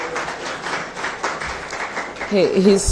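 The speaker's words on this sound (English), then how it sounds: "Another round of applause for Mr. Dovlo." Audience applause at a minister's press briefing, a steady wash of many hands clapping throughout, with tonal voice-like sounds rising near the end.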